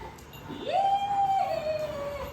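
A dog lets out a single drawn-out howl-like whine, close and fairly loud, rising then sliding slowly downward with little else around it.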